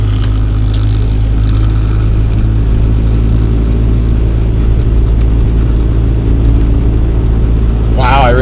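Lexus GS300 drift car driving down the road, with a loud, steady low engine drone and road rumble heard from inside, and a brief whine near the end.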